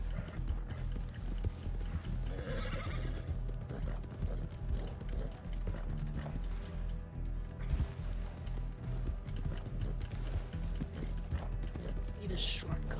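Horse hooves clip-clop in a steady rhythmic trot in a video game, heard at moderate volume with mechanical clicking and intermittent talk over it.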